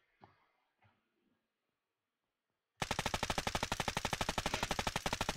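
Machine gun from a modded Arma 3 game firing full auto, a long rapid, even burst of loud close shots that starts abruptly after a few faint knocks and near-silence.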